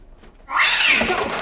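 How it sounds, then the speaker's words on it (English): A cat in a TV show jump scare gives a sudden loud, harsh meow after half a second of near quiet, then holds a sustained yowling cry to the end. "a cat jumps out and startles the characters"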